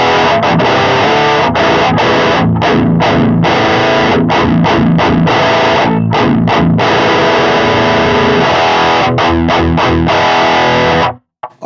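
Electric guitar played through a Fortin Grind boost into a Boss Metal Zone, loud and heavily distorted, with rhythmic palm-muted chugs and choppy stops over nearly twelve seconds, ending in a sudden cut.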